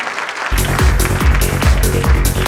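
Loud audience applause bursts in after a brief quiet moment, clapping for a speaker at a presentation, with a steady rhythmic thumping pulse running beneath the clapping.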